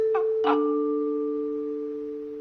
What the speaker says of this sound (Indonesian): Semuanya berjalan cukup mulus sampai bel rumah berbunyi.